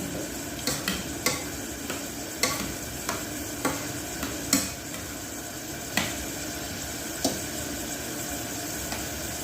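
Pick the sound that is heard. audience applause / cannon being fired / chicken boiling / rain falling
chicken boiling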